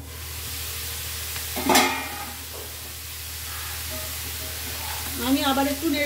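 Banana stem and prawns sizzle steadily in a frying pan while being stirred, with a brief louder scrape-and-hiss burst partway through and a voice speaking over the cooking near the end.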